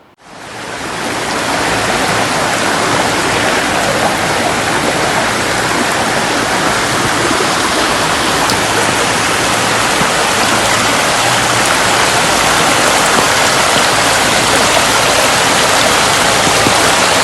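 Heavy rain pours steadily onto a road in Pattambi, Kerala, with rainwater running across it, a loud, dense, unbroken roar that fills the whole stretch with no voices.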